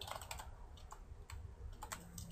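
Computer keyboard typed on steadily while entering game scripting code, rapid close clicking keystrokes in uneven bursts, quiet and with no voices.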